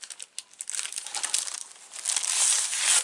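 Vellum paper pieces are curled over and handled up close, giving a dry crinkling and rustling that starts in short bursts and builds into continuous crackling, with no talking.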